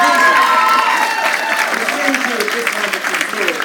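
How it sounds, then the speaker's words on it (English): Audience applause at a college graduation ceremony, a dense burst of clapping from a large crowd honoring parents, loud at first and then tapering slightly, mixed with faint cheering tones. "give your parents a round of applause"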